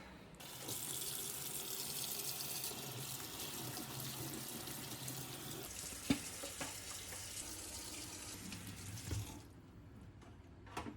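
Dishes being washed under a running kitchen tap after a home dinner in Japan: a steady, close rush of water with scattered clinks and knocks of crockery, then the flow eases off near the end.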